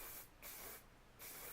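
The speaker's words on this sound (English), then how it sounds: "I'm going to just spray it down just one more time again" Hairspray is sprayed onto long, heavy curled hair in two close, steady hissing bursts separated by a short pause.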